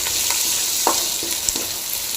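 Close, dry crackling and light sizzling of spices and dried red chillies dry-roasting in a hot pan, with a few soft scraping taps as they are stirred.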